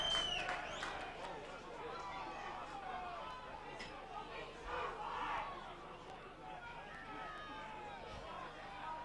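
Rugby league crowd at a London versus Keighley match cheers and applauds in a large stadium, a roaring, shouting mass of fans with scattered claps and whistles, while a commentator talks over it.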